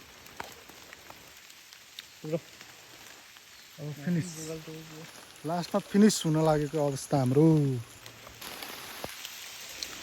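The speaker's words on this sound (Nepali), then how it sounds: "ल गाइस खतरा पानी पर्यो यस्तो भयो जङ्गल यस्तो भिज्यो" Heavy rain falls steadily on a soaked forest, a soft continuous hiss under a person speaking close by.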